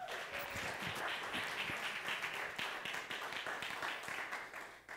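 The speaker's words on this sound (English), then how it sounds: "Give them a clap offering." A church congregation gives a round of clapping, fairly faint and distant, a busy patter of many hands with individual claps standing out, fading near the end.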